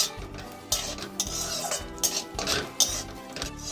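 Cashews and raisins fry in ghee with a gentle sizzle while a spoon repeatedly scrapes and clinks against the pan in an uneven stirring rhythm, close up.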